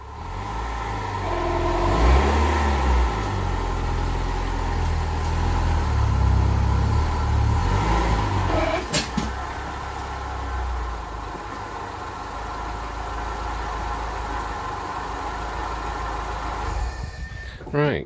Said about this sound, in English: let's get the car up on the ramp.